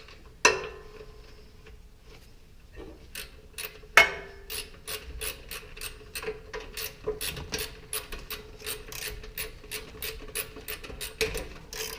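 A ratchet tightening the engine drain plug on a Coleman CT200U mini bike. Two sharp clicks open the sequence, then a steady run of close ratcheting clicks follows in a quick, even rhythm, crisp and fairly quiet.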